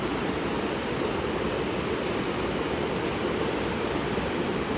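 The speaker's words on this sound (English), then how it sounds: "there's a big waterfall up there." Steady, dense rushing water from a large waterfall on the Eagle Creek trail roars without pause, a broad constant wash of sound with no voices.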